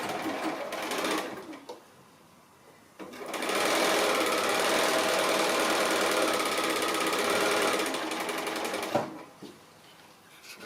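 A sewing machine stitches a partial seam on a quilt block in short bursts, then a long, steady run of loud, rapid clatter close by before stopping.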